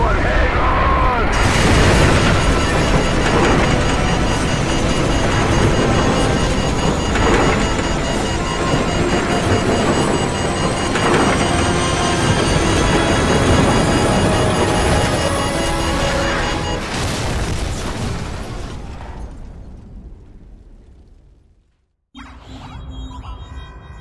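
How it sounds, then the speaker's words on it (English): A massive nuclear blast in the video game Call of Duty 4 Modern Warfare, a loud sustained roar and rumble filling the scene for nearly twenty seconds before cutting abruptly to near silence, with faint sounds returning after. "What appears to be an explosion of epic proportions"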